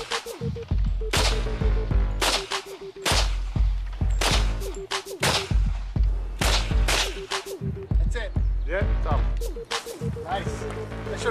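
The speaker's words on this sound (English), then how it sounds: "Went off and fired off some guns" Guns are fired at an old disused site, with repeated sharp shots and short volleys at close range, mixed with loud bangs and voices talking between them.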